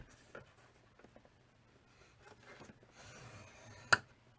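Cardstock scored on a scoring board makes soft, faint scraping strokes up close, ending in a single sharp click.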